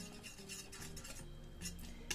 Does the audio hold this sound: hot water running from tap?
no